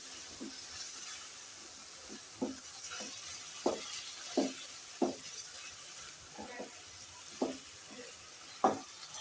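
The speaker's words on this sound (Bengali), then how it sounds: "সরিষার তেল দিয়ে বাগার দিলাম" Mustard oil tempering sizzles over cooked taro leaf greens, a soft steady hiss punctuated by a dozen or so short crackling pops and spatters at irregular intervals, close by with no talking.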